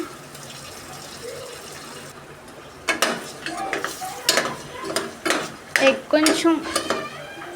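Eggs cracked into a pan, frying and stirred, with a faint sizzle first, then repeated scraping and clattering of a utensil against the pan in irregular bursts, close and fairly loud.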